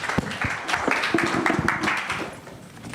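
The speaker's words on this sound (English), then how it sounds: "Please join me in applauding this panel for their intervention" An audience applauds a panel at a child protection event, a few seconds of steady scattered clapping in a hall.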